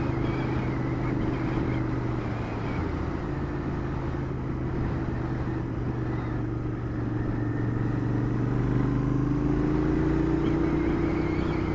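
A Royal Enfield Interceptor 650 motorcycle rides along a motorway, its engine a steady, loud drone with a low harmonic hum and rising pitch near the end, mixed with constant wind rush.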